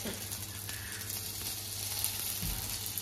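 Crushed ginger and garlic sizzle steadily in hot oil for a black chicken curry, a continuous close hiss with a faint stir near the end and no speech.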